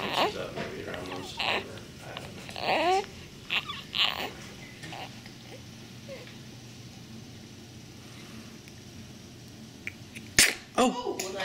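A single sharp sneeze bursts out near the end, following scattered quiet rustling and faint voices in the background.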